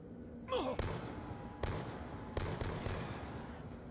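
Gunfire from a semi-automatic weapon in Call of Duty Zombies, a few sharp, loud single shots spaced apart, over a busy game backdrop with a brief rising effect at the start.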